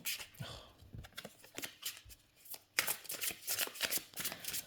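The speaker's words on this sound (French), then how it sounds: "Les cartes glissent très bien." Tarot cards being shuffled by hand, with soft repeated riffles and sliding swishes in irregular bursts, close and fairly quiet, with no talking.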